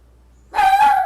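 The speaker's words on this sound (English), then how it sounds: "Sorry, that's my dog." A single short bark from a pet dog indoors goes off abruptly after a brief quiet stretch, fairly loud and close, with no talk over it.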